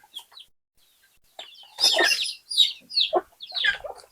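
Desi chickens cluck in a few short, sharp bursts close by. The calls come one after another over a few seconds, with quiet gaps between them.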